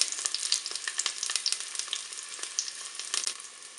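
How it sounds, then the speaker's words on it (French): Chopped onions sizzle and crackle steadily in the hot preheated pot of a Cookeo multicooker, with dense, close frying pops and occasional stirring scrapes, no voices. "je vais mettre mes oignons bien dans la cuve. Là, je vais les faire revenir 1 à 2 minutes"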